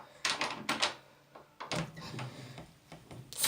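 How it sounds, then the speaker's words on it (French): A door is pushed shut indoors, giving a few close, fairly faint knocks and clunks with quiet pauses between them and a final louder thump. "je ferme ma porte"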